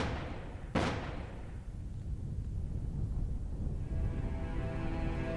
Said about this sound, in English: Each explosion successfully powered the unmanned capsule upwards.